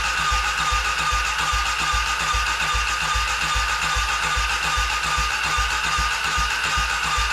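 A Polaris Predator 500 sports quad with slightly tight valves runs steadily up close, its engine pulsing in a fast, even rhythm with a constant mechanical whine throughout and no talk.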